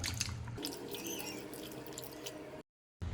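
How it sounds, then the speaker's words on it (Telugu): Cut potato pieces are swished and rinsed in a bowl of water, with close splashing, dripping and gurgling that runs continuously before a brief silent gap and a final splash. "ఇప్పుడు వీటిని వాటర్లో వేసుకొని మంచిగా కడుక్కోవాలి"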